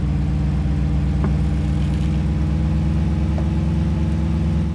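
A Magris truck engine idles loudly and steadily in Farming Simulator 15, a deep rumbling drone with an even pulsing throb and no talking.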